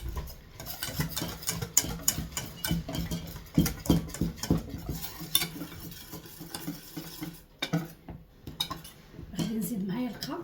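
Flour batter for a savory quiche being stirred in a bowl, with repeated scraping and clinking of a utensil against the dish in an uneven rhythm, close and fairly loud, with someone talking throughout.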